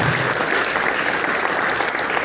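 Applause at a high school hall of fame induction ceremony, a dense, loud wash of many people clapping continuously and evenly throughout, close and without any speech over it.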